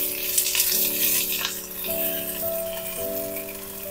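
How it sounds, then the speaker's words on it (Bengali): Cut potatoes fry with nigella seeds in hot oil, a steady hissing sizzle running throughout beneath sustained tonal music. "আলুগুলো আমি একটু ভালো করে ভেজে নেব"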